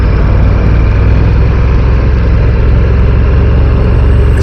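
A Ducati Diavel V4 motorcycle engine runs at low revs in a loud, steady, close rumbling drone that holds without a break and has no voices over it.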